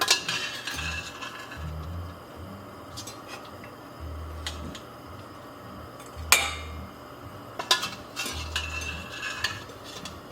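Soft clinks of glass jars and utensils sound as sliced peppers are spooned into jars for cowboy candy, with scattered sharper taps and scrapes over a low hum, close by and with no speech.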